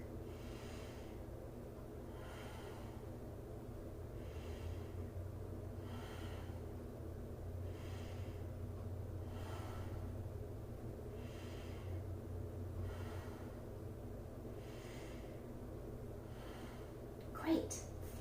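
Slow, deep breathing during a mindful movement exercise for young children: faint, evenly spaced inhales and exhales every couple of seconds over a steady low hum, ending in one brief sharper sound.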